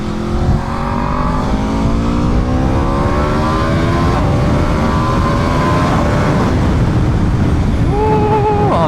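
An Aprilia Xtrenta track motorcycle pulls smoothly around a hot asphalt circuit, its engine tone climbing steadily through the revs over continuous wind noise, then easing off near the end.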